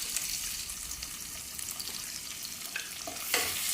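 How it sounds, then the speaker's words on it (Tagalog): Garlic sautés in hot oil in a pan, giving a steady, close, bright sizzle with a soft stir and a brief louder burst near the end, no talking. "gisahin ang bawang"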